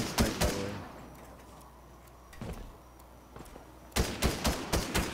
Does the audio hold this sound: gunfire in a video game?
yes